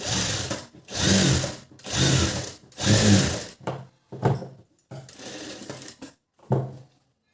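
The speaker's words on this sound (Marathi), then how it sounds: "तर पाहू शकता याप्रमाणे आपल्याला हे शिलाई करून घ्यायची आहे" A sewing machine stitches a blouse in repeated loud bursts of rapid whirring, stopping and starting several times with short gaps between runs.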